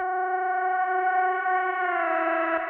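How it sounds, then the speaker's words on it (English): A dry FM synth pad played in Ableton's Operator in a future garage style, with one voice held as a steady, buzzy harmonic tone whose pitch glides upward near the end, clean and alone. "So this is a simple FM sound."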